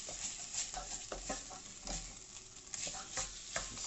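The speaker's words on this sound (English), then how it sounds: "Now that's stirred through." Sausage pasta sauce stirred in a frying pan, giving a close, continuous wet scraping and churning with a soft sizzle underneath and no talk.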